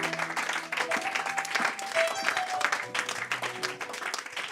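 A church congregation breaks into sustained applause, many hands clapping together steadily for several seconds with music and voices mixed in.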